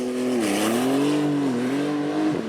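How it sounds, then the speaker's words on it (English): A 2021 Porsche 911 Turbo accelerates hard, its engine note loud and close, rising and dipping through gear changes in one sustained roaring pull with no voices. "this 911 is one of the very few cars that can accelerate like this"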